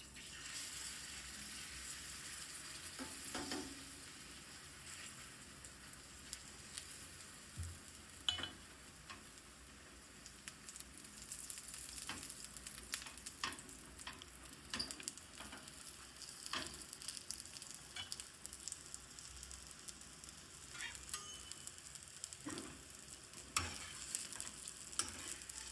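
Pudla batter fries in oil on a gas stove, giving a soft, steady sizzle with occasional stirring clinks and scrapes. The sound is faint and close, with no talking.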